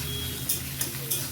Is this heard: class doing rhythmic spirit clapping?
no